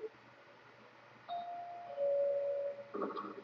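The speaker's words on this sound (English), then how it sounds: "I'm going to put the doorbell." A doorbell rings inside the horror video game Ju-on: The Grudge, two sustained electronic chime tones held one after the other, fairly clear over a quiet background, followed by a brief burst of other game noise.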